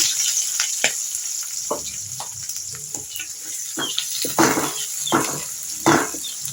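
Garlic, onion and green chillies frying over a high flame for restaurant-style chicken manchurian: a steady bright sizzle with repeated scraping stirs and a few louder spatters, close up and without speech.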